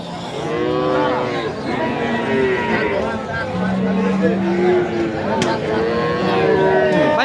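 Several Friesian dairy cattle moo repeatedly at a cattle market in Rajshahi, long low calls overlapping one another amid a crowded, noisy background with voices.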